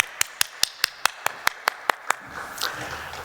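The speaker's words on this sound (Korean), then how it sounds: "영광의 박수 올려드리겠습니다." Steady rhythmic clapping from a church congregation during a Sunday worship service, about ten crisp evenly timed claps in a row, then trailing off into a softer scatter of noise and faint voices.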